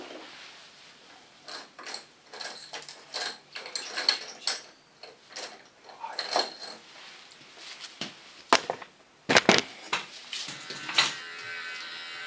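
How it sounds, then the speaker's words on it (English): A small hair clipper trims the lines of a short pixie haircut in quick buzzing bursts that start and stop irregularly, close up and fairly quiet, with small handling noises between passes. "With a small clipper, I just correct the lines a bit."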